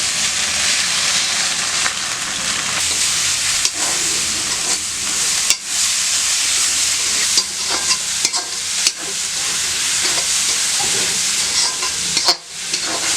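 Egg whites poured into a hot pan with broad beans for an egg poriyal, giving a loud, continuous close-up sizzle with stirring scrapes throughout and no talking.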